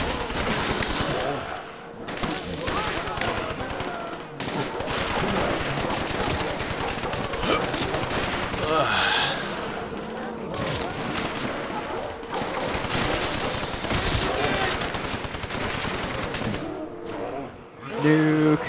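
Sustained automatic fire from the MG Forte 2 in a Nazi Zombies video game, dense rapid bursts with brief pauses over nearly twenty seconds, loud and close.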